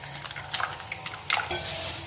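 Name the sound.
mixing leftover spice masala into fish batter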